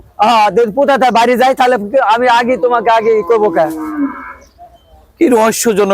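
A cow lets out a long, drawn-out moo amid loud, close voices talking back and forth.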